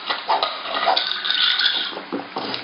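Sparkling water, an Italian brand, poured from the bottle, a steady close liquid rush and fizz with a few light clinks, running continuously without talk.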